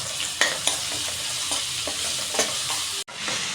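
Garlic and onion with curry leaves fry in a pan for a spinach and egg curry, a steady close sizzle broken by a few sharp scraping clicks as the mixture is stirred.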